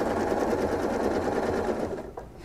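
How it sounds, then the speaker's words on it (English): A domestic sewing machine runs steadily, quilting straight stitches in the ditch along fabric seams, a close continuous whir that eases off and fades near the end. "I'm gonna stitch along my seams"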